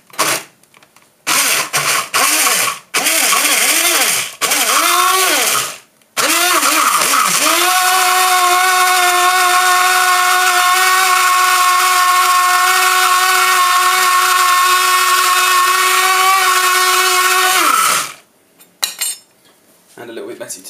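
A kitchen blender pureeing vegetables gives several short loud pulses, then settles into a steady, close, high-pitched whirring run of about ten seconds before cutting off.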